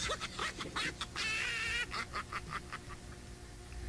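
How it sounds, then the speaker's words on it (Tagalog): Poultry on a chicken farm squawking and clucking in quick, jumbled bursts, fairly loud and close, with a busy flurry of calls in the middle. "Parang farm yata ng manok yun dyan ah."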